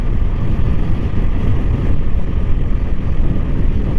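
Strong wind blows steadily across a hilly roadside area, a loud, continuous low rumble buffeting the microphone with no pauses.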